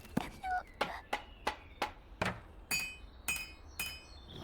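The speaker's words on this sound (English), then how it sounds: "I heard hammers and sawing there." Hammering and sawing inside the video game Small Saga: about ten sharp, evenly spaced strikes with bright metallic ringing, fairly close and clear, with no talk over them.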